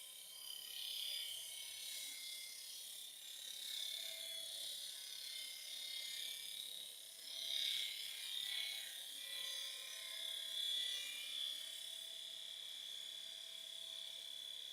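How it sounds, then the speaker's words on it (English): Gouge cutting a maple box on a wood lathe, a steady hissing, scraping whir with slight swells as the tool moves through the cut, continuous and fairly faint throughout. "Lining up my bevel in line and just lifting the handle into the cut a little bit."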